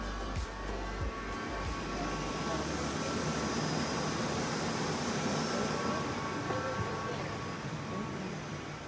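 A steady, loud, broadband roar fills the cabin of an Etihad Boeing 787-10 cruising from Abu Dhabi to Rome in business class. The engine and air noise hold constant, with a few faint clicks at the start.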